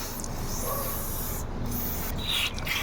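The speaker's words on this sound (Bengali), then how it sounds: "ভালোভাবে সব জায়গায় স্প্রে করে দিতেছি" WD-40 aerosol being sprayed over a motorbike engine and carburetor, a steady close hiss with a few brief breaks and short bursts.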